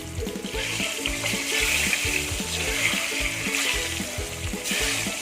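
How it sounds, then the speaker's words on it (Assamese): Eggs fry in hot oil for an Assamese egg curry, giving a steady close crackling sizzle with a watery bubbling texture and rhythmic stirring pulses underneath, without talk. "এয়া কণীকেইটা মই এতিয়া আগতে ভাজি ল'ম।"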